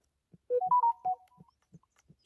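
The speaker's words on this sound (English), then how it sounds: "Sorry, that's probably a loud notification." A phone notification plays during a video game: a short, clean melody of rising and falling tones, fairly close and moderately loud, followed by soft ticking clicks.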